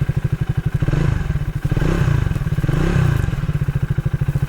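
A Triumph Thruxton 400 motorcycle engine fires up and settles into a loud, thumping idle with deep rhythmic pulses, revving briefly a couple of times.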